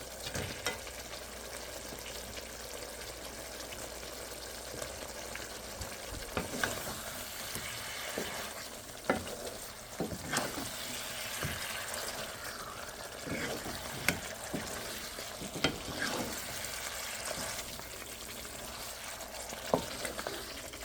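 A rohu fish head sautés in a pan, a soft steady sizzle broken by scattered scraping and tapping strokes of a spatula, with faint talk at times.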